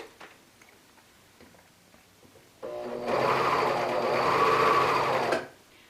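A serger, an overlock sewing machine new to its owner, starts after a quiet stretch of faint handling noises and runs in one steady, loud whirring burst of stitching for about three seconds before stopping.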